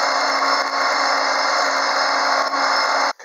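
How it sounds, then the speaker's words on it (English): Fine 800-grit sandpaper rubbed by hand over a turned cocobolo cigar pen's finish between coats, a steady continuous hiss of abrasion lasting about three seconds before stopping abruptly, close and alone. "I'm going to take just some 800 grit sandpaper and just give it a really quick rub"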